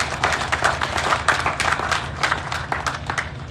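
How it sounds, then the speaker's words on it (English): An audience applauding the construction company CRSG at the official commissioning of the Sierra Leone Foreign Service Academy: a steady patter of many hands clapping at moderate loudness, fairly close, with no voices over it. "I kindly ask that we give CRSG a round of applause"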